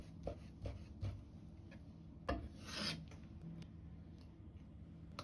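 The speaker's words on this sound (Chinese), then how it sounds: "先把肥肉改刀切成薄片後，" Knife cutting pork fat into thin slices on a board, heard as a series of dry scraping, rasping strokes at an uneven rhythm, close and fairly quiet.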